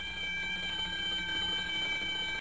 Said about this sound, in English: the computer closes the overboard valve and opens the return valve to the slop tanks, thereby activating visual and audible alarms